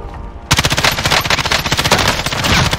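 Rapid automatic gunfire in Call of Duty Warzone while pre-firing, an M13 rifle blasting a fast, even stream of loud shots right after a quiet moment, with no talk.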